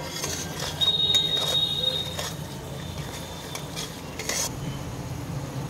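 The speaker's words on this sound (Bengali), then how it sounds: "এবার এটা মশলাটা আমি আবার ভেজে নেব।" Spice mix of turmeric, chili powder, cumin, salt and a little sugar frying in oil in a pan, a soft continuous sizzle under repeated clinks and scrapes of a utensil against the pan.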